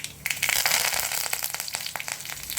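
Dense, rapid crackling and popping of mustard seeds spluttering in hot oil, loud and close, continuing steadily without any talk.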